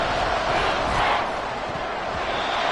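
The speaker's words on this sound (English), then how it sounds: "This crowd turning up the decibel level" A football stadium crowd on a third-and-long play lets out a dense, loud roar that swells to a peak in the first second and stays high, with voices blended into the din.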